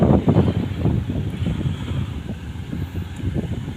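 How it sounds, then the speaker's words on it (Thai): Cold wind gusts buffet the microphone beside a dump truck, a continuous low rumbling roar that swells and eases throughout with no speech. "ลมหนาวมาแล้วครับ"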